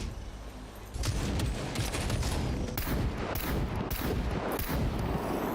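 Sustained automatic gunfire in the survival video game SCUM, a loud, dense stream of rapid shots that swells after the first second and keeps rattling without break.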